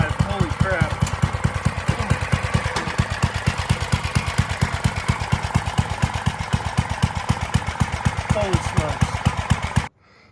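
A homemade yard kart engine revs hard while being driven, a loud rapid chugging beat that stays close and continuous before cutting off abruptly, with voices and exclamations over it.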